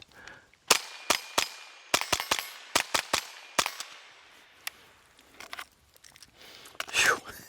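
Suppressed Ruger 10/22 in a bullpup chassis firing high-velocity CCI Stinger rimfire rounds, about a dozen sharp, loud cracks in an irregular string, followed by quieter handling noises and a brief voice.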